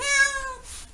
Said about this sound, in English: She hates baths. I feel like I'm torturing her, but Nova, it'll help.